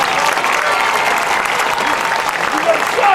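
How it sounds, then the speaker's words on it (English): Audience applause fills a hall of fame induction ceremony, steady and loud throughout with dense clapping from a large crowd and a few voices mixed in. "Let's give them all a big round of applause."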